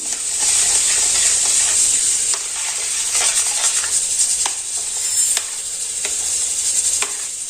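Ghee heating in a pan beside a griddle where bajra bhakri is being made, a constant hissing sizzle broken by a few soft scrapes and stirring taps.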